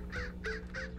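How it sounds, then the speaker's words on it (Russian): A crow in a Hello Neighbor mod game caws three times in a steady rhythm, clear and close, over a low background hum. "Вон, ворона."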